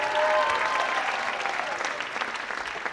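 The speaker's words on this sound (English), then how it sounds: "Another round of applause for our tech crew here." Sustained audience applause at a staff dance show honouring the tech crew, a dense even wash of clapping that fades slightly toward the end, with a faint tonal whistle early on.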